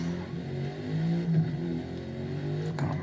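A Mercedes race car engine drones and revs at moderate loudness in Forza Motorsport, a steady buzzing tone that rises and falls slightly over a few seconds.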